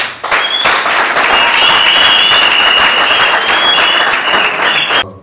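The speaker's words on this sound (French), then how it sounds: "Louis-France, sous nos applaudissements." A loud, dense burst of audience applause welcomes a speaker at a certificate ceremony, sustained clapping with a high-pitched whistle or tone running through it, cutting off abruptly near the end.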